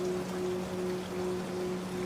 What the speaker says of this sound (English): The rain slows,